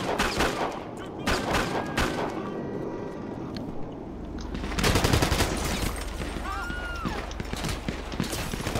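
Bursts of automatic gunfire in the GTA Humane Labs mission crackle in rapid volleys, some nearer and some more distant, with a heavier stretch of shooting midway through.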